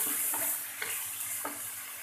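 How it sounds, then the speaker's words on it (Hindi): Masala frying in a pan for a dahi baingan (yogurt eggplant) dish, a steady close sizzle and crackle with a few soft scraping stirs, no voices. "मसाला हमारा बिल्कुल भून के तैयार हो गया"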